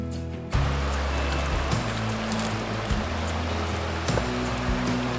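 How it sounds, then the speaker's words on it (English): River water rushing steadily and close by, a broad continuous wash with low hum tones over it, starting abruptly after a brief quiet moment. "it was an awesome river"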